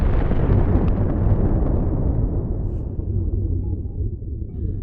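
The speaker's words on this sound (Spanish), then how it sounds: "De repente, se produjo una explosión." A deep, heavy explosion sound effect with a loud rumbling body that slowly darkens and fades over several seconds, alone without voices.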